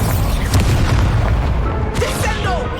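An Incendio fire spell goes off in Hogwarts Legacy as a loud, close burst of whooshing fire with a deep boom, and a voice speaks briefly near the end.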